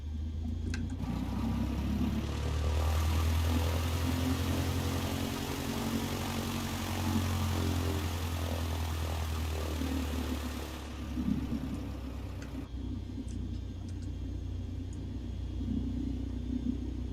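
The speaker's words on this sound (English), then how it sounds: "So we'll go ahead and release the parking brake and head on out to the runway." A Cessna 152 propeller aircraft taxiing toward the runway, its engine droning with a steady low rumble and propeller hum that swells and eases slightly, heard continuously from inside the cabin with no talk.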